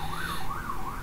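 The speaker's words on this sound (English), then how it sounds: "there's just sirens outside my place right now" Emergency vehicle sirens outside a home, a steady wailing rise and fall that repeats about three times, moderately loud and heard from a distance through the walls, with no talk over it.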